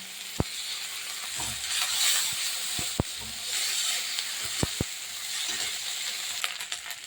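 Onion paste with garlic and ginger fries and crackles in a pan for a fish curry. A soft, steady sizzle carries on throughout, with several sharp clicks and taps of a spoon against the pan, near and without speech.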